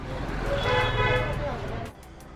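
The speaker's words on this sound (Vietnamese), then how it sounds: "Điều đầu tiên mình nhận thấy khi đến New Delhi chính là cái tiếng còi xe inh ỏi." Car horns honk repeatedly in busy New Delhi street traffic, a sustained blare with overlapping toots over a steady roadway rumble, fading out near the end.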